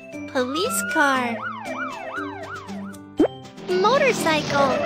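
A voice imitates a police siren with rising and falling wails, repeated several times in a steady rhythm, close and loud.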